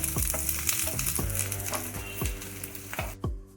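An inch of ginger and a few garlic cloves fry in a pan, a close, steady sizzle punctuated by regular knocks and scrapes of a spatula stirring, then a sudden drop near the end.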